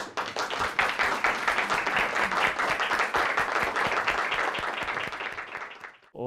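Audience applause at a live music event welcoming a musician to the stage: dense, steady clapping that fills the room for about six seconds before cutting off abruptly.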